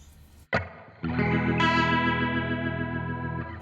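A brief strum, a pause, then a sustained electric guitar chord ringing out through a black hole reverb effect, washy and swirling, slowly decaying.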